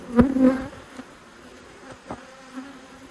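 Honey bees buzzing close by at a hive, a loud hum at the start, then quieter drones and brief buzzes passing intermittently.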